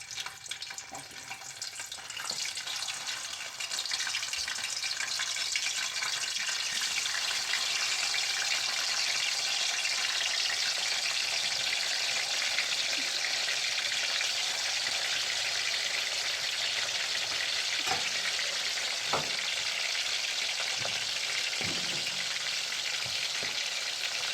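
Chicken sizzling steadily in hot oil in a home kitchen, a continuous loud crackling fry that holds for the whole stretch after a brief quieter start, with occasional sharper pops and no talking.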